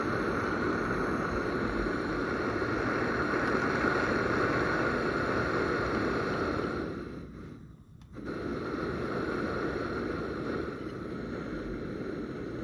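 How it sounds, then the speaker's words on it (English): A burner flame roars steadily during the first fire-up of a homemade Lumber Jack build, a loud continuous rushing that briefly dips and then resumes. "We have a nice flame in there now. I'm jetting a little bit forward."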